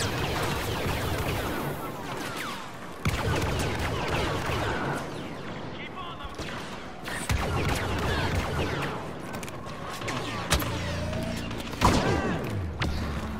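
Gunfire from a sniping gun in an online shooter, irregular muffled shots and thuds spread over a noisy game backdrop, with a voice talking throughout.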